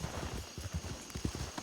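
Horses trot in a video game, their hooves clip-clopping in a quick, uneven rhythm of soft knocks at moderate distance, with faint background ambience and no voices.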